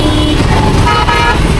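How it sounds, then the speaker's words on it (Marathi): Car horns toot over continuous road traffic at Katraj junction, a dense steady wash of engine noise with honks blending into the din, close and loud throughout. "ट्रॅफिकमध्ये आपल्याला लोकांच्या हॉर्नची वेगवेगळी व्हरायटी बघायला मिळते"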